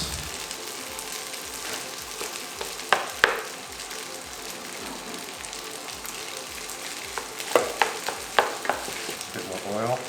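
Rice sizzles and is stirred in a hot pan with calamansi, chilies and vinegar for chicken inasal fried rice, a constant dense frying hiss broken by scraping strokes and a few sharp clacks of the utensil.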